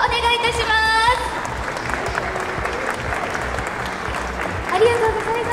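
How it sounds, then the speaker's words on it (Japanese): Sustained audience applause fills the space after a ribbon-cutting ceremony opening the renovated international departure area at Kansai International Airport Terminal 1, dense and steady, with brief voices and music-like tones near the start and end. "皆様今一度大きな拍手をお願いいたします"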